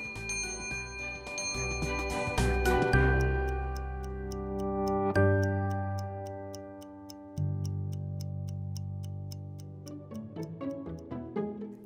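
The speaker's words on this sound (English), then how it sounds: "It makes me very happy to hear the clock's working again." Antique clocks in a historic house, heard as a steady, even ticking beneath a loud ringing chime whose tones overlap and slowly fade, with no voices.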